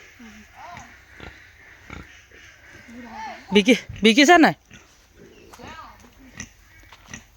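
A male pig grunts and snorts close by, with a burst of loud grunting in the middle, while people talk over it.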